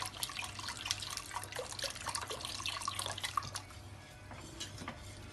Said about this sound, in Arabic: دابا غادي نزيد الحليب كله اللي بقالي